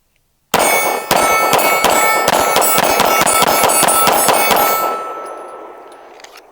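A Derya DY9 pistol fires Armscor 115 grain rounds in a rapid string of about a dozen sharp, loud cracks at close range, with ringing decay after the last shot.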